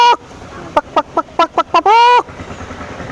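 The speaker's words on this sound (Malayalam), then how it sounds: "പിന്നെ താറാവ്." A duck gives a short run of sharp, evenly spaced quacks, then one longer drawn-out call, loud and close against a quiet background.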